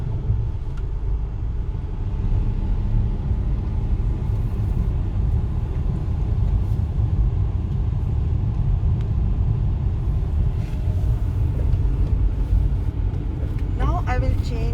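A manual car engine hums steadily with a low, constant rumble during a gear change, road and cabin noise underneath while a driver talks throughout.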